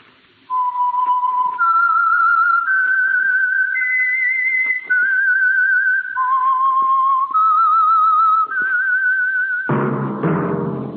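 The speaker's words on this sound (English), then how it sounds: "That whistle is your signal for the Signal Oil program" A clear, melodic whistled tune of steady held notes stepping up and down, loud and close, alone, ending as another sound starts.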